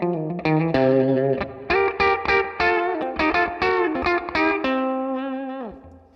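A 1966 Fender Mustang electric guitar played through a vintage Silvertone 1484 amp on channel 2 without reverb or tremolo, a loud, slightly distorted run of picked notes and chords ending on a sustained fading note.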